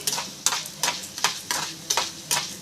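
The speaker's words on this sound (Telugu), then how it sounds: "ధనియాలు వేసుకున్నాక అవి కూడా బాగా వేగాలండి" Coriander seeds crackling and sizzling in hot oil in a pan while being fried for a Telugu minapagullu pachadi, with bright bursts of popping recurring roughly every half second over a steady frying hiss, close and alone.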